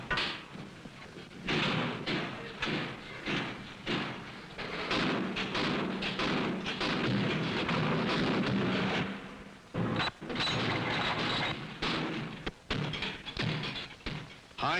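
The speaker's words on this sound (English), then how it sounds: "function firing, to make sure the magazines and mechanisms of all multiple-shot rifles and shotguns are in perfect working order" Remington multiple-shot rifles and shotguns, including .22s, are function fired at the factory, giving a dense string of sharp gunshot reports and booming thumps, loud and close, overlapping almost continuously with brief pauses.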